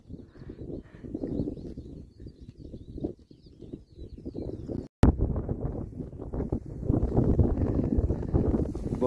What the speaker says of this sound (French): Bon, désolé pour le vent, mais on est en hauteur